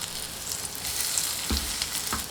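Steady hissing sizzle of an avocado rice pancake frying in cooking oil, with a few soft scraping stirs, close and fairly quiet.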